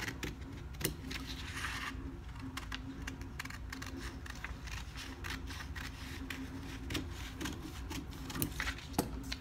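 Scissors snip through blouse fabric while a princess-cut blouse is being cut, making faint, steady, rapid clicking cuts against a low background hum with no talk.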